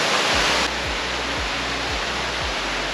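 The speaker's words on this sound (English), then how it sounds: "This is one of the most beautiful waterfalls I've ever seen." A waterfall on Sumba Island pours in a loud, dense, continuous rush close by, with low thuds recurring at a steady rhythm underneath.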